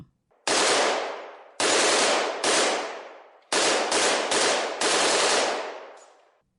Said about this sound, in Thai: ก็ชักปืนยาวนั้นออกมา แล้วกราดยิงใส่ควางซางอย่างบ้าคลั่ง